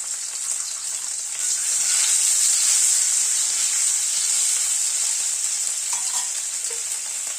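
Pieces of boiled medium potatoes fry in hot oil in a wok, giving a loud, continuous bright sizzle with occasional stirring, close up and without talk.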